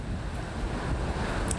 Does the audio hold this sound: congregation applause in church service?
no